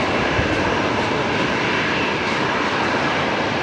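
An aircraft taxis at Brisbane Airport, a loud, steady engine roar with a broad rushing hiss that holds at an even level throughout, with no voices.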